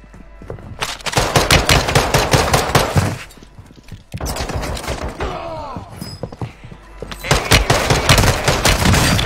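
Rapid bursts of automatic gunfire and pistol shots in Call of Duty on the Ashika Island map, loud and dense, with bursts in separate stretches and a short lull partway through.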